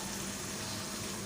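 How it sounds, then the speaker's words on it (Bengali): Spice paste with yogurt and salt frying in oil for egg korma gives a steady, close hiss and crackle that holds evenly throughout, with no talking. "এখন আমি মশলাটাকে ভালো করে কষিয়ে নেব।"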